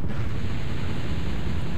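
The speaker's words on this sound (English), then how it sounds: "So we're gonna shoot the rocket" Rocket shot destroying a pump in Quake: Scourge of Armagon, a steady, dense low roar like a rushing blast, loud and unbroken across the whole moment.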